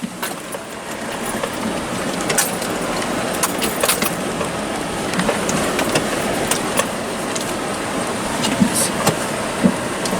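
A 4WD creeps in low second gear over a bumpy crossing near Cape York, a steady engine drone and cabin rumble with loose rattles and jolts popping up now and then.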